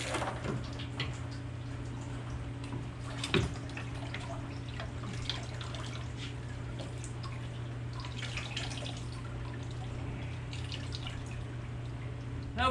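Coolant water drips and trickles from a car engine down into a drain pan, irregular small drips and splashes over a steady low hum.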